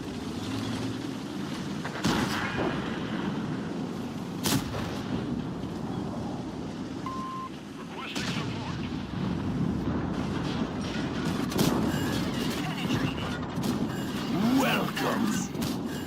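Tank cannon rounds fire in World of Tanks, a series of loud booming shots spaced a couple of seconds apart over a steady rumbling engine and battlefield bed, with no voice.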